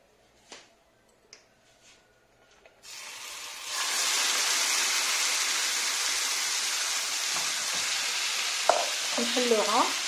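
Shawarma-spiced chicken hits a lightly oiled pan: a few soft clicks, then a sudden loud, steady frying hiss that holds close for several seconds, with faint utensil sounds near the end.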